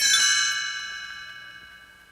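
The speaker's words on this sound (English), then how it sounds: "You will know it is time to turn the page when you hear the chimes ring like this." Chimes ringing once as a page-turn signal for a read-along storybook, a bright metallic strike that rings out and slowly fades over about two seconds, alone and clear.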